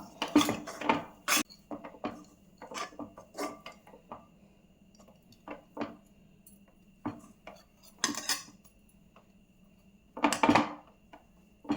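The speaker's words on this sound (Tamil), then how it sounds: "அந்த சூட்லேயே நம்ம கிண்டி இறக்கிடலாம்." A metal spoon stirs thick cashew dough for kaju katli in a pan off the heat, giving sparse, quiet scraping and clinking taps at an irregular pace with faint pauses between strokes.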